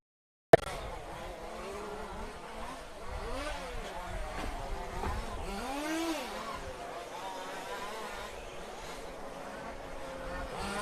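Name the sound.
RC off-road racing trucks driving on the track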